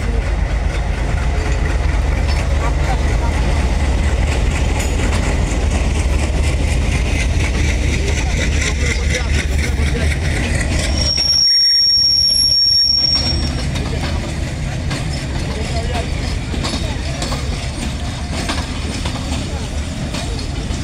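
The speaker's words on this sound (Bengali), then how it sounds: "এই যে ট্রেন আসতেছে, ওই যে যাচ্ছে।" A train rolling past at the Hili zero point border crossing, loud and close, with a sustained heavy rumble of wheels and carriages and a brief metallic squeal midway.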